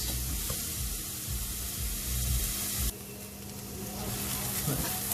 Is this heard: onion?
yes